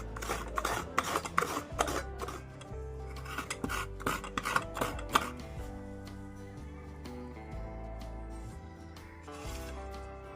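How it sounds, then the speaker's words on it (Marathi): Coconut grated by hand for a Marathi radish curry, a run of close rasping strokes in quick rhythm that thin out into softer scraping over steady background music, with no talk. "तर आता आपण खोबरं किसून घेऊया."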